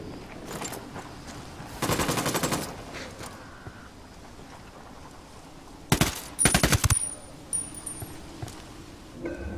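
Automatic gunfire bursts in the Ghost Recon Wildlands shooter game: a few scattered shots, then a rapid burst near two seconds and two more dense bursts around six to seven seconds, loud against a low ambient background.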